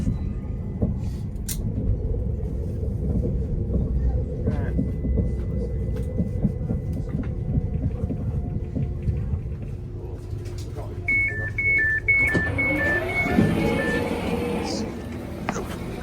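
A train rumbles steadily along the rails near Mytholmroyd station, with a string of short electronic beeps near the end and a vehicle hum underneath.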